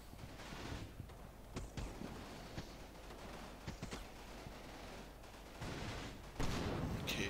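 Tank and gunfire in the WWII strategy game Combat Mission: Battle for Normandy, a distant, rolling fusillade of shots and booms under wind-like rumble, building louder toward the end.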